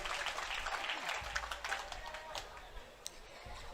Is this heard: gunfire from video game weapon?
no